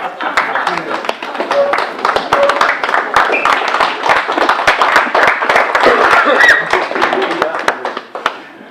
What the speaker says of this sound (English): Ladies and gentlemen, give a warm applause to Mayor Kevin Brooks.